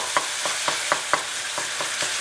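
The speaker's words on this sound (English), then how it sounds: "We allow it to brown off a little bit, and we continue to break it down" Minced meat browns in a pan for spaghetti bolognese, a steady broadband sizzle broken by regular spatula scrapes and taps about every quarter second, close and moderately loud, with no talking.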